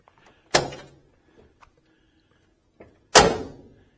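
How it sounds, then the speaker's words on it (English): A 1969 Camaro RS SS door slams shut twice, each a sharp, solid snap with a short decaying ring, separated by a few seconds of near silence and faint small clicks. "You'll notice the doors, they just snap shut."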